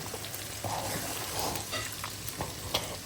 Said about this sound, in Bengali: পানি দিয়ে আমি একটু কষিয়ে আবার মাছটা উপর দিকে দিয়ে দিচ্ছি